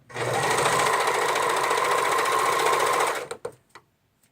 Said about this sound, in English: You're going to sew the edge with the serger.